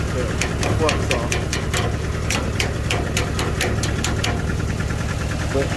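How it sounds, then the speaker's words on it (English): Tractor engine with a freshly repaired muffler idling steadily up close, a continuous low rumble with regular ticking knocks throughout. "muffler's working too. Tractor's a lot quieter than it's been in recent times."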